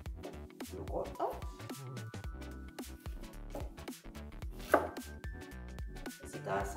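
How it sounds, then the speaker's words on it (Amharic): Vegetables being chopped on a board for an Ethiopian roast chicken dish, sharp knife strikes coming in an irregular series under background music, with one louder hit near the middle. "አሁን በመጀመሪያ አትክልቶቹን እቆራርጣለሁ።"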